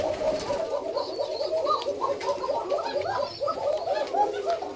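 A flock of black koka pigeons cooing together at a pigeon farm, many soft, overlapping throaty coos forming a steady, close, continuous chorus.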